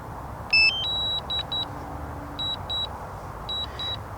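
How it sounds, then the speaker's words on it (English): A DJI Mavic Mini drone controller sounds a low-power warning, a series of short, high electronic beeps in repeating pairs and triplets over a faint background hiss. "DJI beep"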